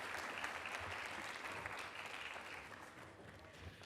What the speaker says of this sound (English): So can we give these folks a round of applause for all the extra work and time that they put in